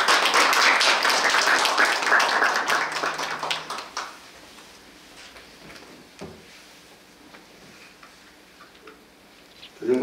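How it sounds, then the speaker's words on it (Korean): Dense clapping from an audience at a city council policy forum fills the first few seconds, then fades into scattered claps and quiet room noise. "박수로 환영해 주시기 바랍니다"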